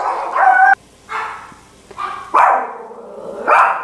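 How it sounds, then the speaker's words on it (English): Several dogs bark excitedly at someone at the door, sharp loud barks in bursts with short pauses between, close by in a home kitchen. "the dogs are acting crazy because somebody came to the door"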